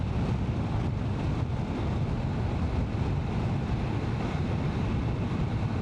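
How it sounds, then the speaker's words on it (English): Steady wind buffets the microphone on a motorbike ride through Glencoe, with a constant broad rushing roar that does not change. "there's sort of some wind there."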